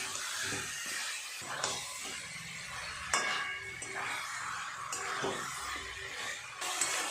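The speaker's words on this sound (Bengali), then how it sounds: "খুব ভালো করে এখন সময় নিয়ে চিকেনটাকে এইভাবে নেড়ে চেড়ে কষিয়ে নিতে হবে যতক্ষণ না তেল ছাড়ে।" Chicken pieces fried in oil in a pan for Bengali chicken kosha, stirred over steady sizzling, with repeated scraping and clinking of the spatula against the pan at close range.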